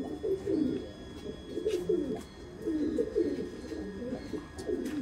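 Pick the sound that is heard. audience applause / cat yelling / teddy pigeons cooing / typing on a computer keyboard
teddy pigeons cooing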